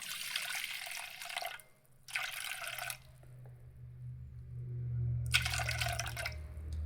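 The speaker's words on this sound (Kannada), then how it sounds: "ಈಗ ನೋಡಿ ಫ್ರೆಂಡ್, ಈ ಹಾಲನ್ನು 2 ಭಾಗ ಮಾಡ್ಕೊಳ್ತೀನಿ ನಾನೀಗ." Milk poured into two portions, with splashy pouring bursts that start and stop under a low background hum.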